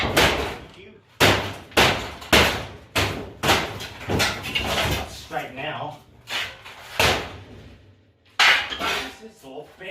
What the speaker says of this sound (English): Where's my claw hammer?